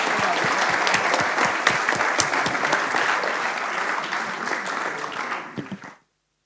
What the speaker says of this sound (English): Please join me in a warm applause